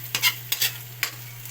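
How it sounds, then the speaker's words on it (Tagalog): Longanisa sausage sautéing in a pan: a few sharp stirring scrapes and clatters over a continuous sizzle, close and fairly loud, with a low steady hum beneath. "Pag nagisa-gisa na siya."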